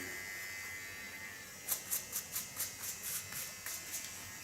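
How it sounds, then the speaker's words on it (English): A quiet buzzing clipper hum with a series of about ten rhythmic bursts, close by, no talking. "I think this is the first time she feels a clipper."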